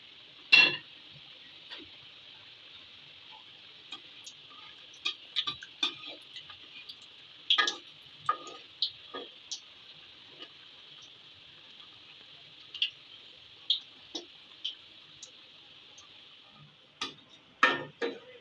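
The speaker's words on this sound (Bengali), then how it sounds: "এখন আমি তেল গরম করে নিছি, তো তেলে ছেড়ে দিচ্ছি।" Nimki dough pieces fry in hot oil with a quiet, steady high hiss broken by scattered sharp crackles and pops, some in quick clusters.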